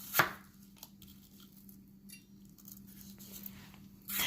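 Apples are sliced for a vegan apple upside-down cake baked in a cast iron skillet, with a few crisp knife cuts close by, a sharp one at the start and another near the end, quiet in between.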